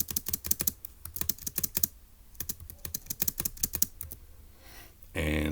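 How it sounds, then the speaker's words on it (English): Rapid close keystrokes on a computer keyboard come in quick bursts with a short pause midway, ending in a brief louder rustle. "So let's go ahead and type that up."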